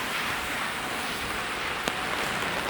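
Steady rain hissing down on a city street along Yonge Street in Toronto, a broad, constant wash with one brief sharp tap partway through and no talk.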